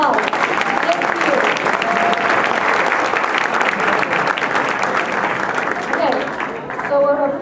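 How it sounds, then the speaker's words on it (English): Sustained, loud applause fills a hall at a Cyrus the Great Day 2021 event, a dense, even wash of clapping from a large audience that tapers slightly at the end, with voices faintly beneath it. "Let's give them another round of applause."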